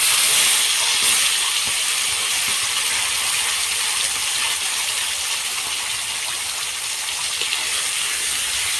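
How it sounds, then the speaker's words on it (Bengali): Spice paste of turmeric and chili powder hits hot oil over fried onions in a pan for a Bengali boal fish curry, giving a loud, steady sizzling hiss that holds evenly throughout with no talking. "এখন আমি মশলা দিয়ে দিই।"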